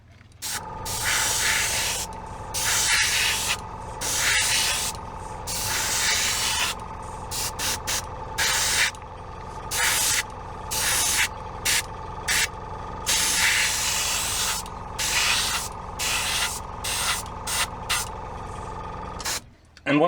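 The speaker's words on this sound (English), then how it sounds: "you can start to manipulate it using just air to make it seem like corroded metal even more" An airbrush hisses in repeated short bursts as it sprays paint onto miniature metal catwalk pieces, a close, steady spray sound that starts and stops with no voices over it.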